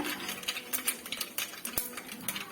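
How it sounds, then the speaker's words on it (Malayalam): Mustard seeds popping in hot coconut oil for a drumstick curry give fast, irregular, close crackling pops and ticks over a soft sizzle, no talking. "നമ്മുടെ കടുക് പൊട്ടുവാണ്"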